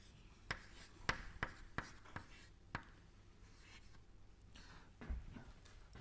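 Chalk or a marker writes on a lecture-hall board, giving a series of sharp taps and scratchy strokes at an irregular pace, faint and somewhat distant, with no talking.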